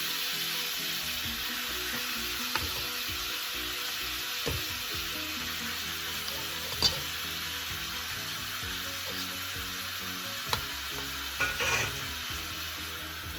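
Short ribs searing in a pot give a steady, close sizzle that runs throughout, with occasional clinks and scrapes of a utensil turning the meat; no one speaks.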